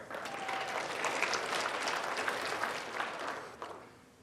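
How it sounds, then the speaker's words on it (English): An audience applauds for Paula at a Fundamental Truths gathering in Red Deer, a steady wash of many hands clapping that stays full for about four seconds, then thins out. "Clap if you're here for Paula."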